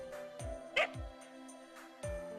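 A dog in the video game Fate Grand Order lets out several short yips and barks, spaced irregularly over a quiet musical background, close and moderately loud.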